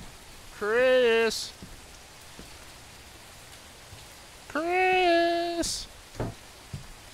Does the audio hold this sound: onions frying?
no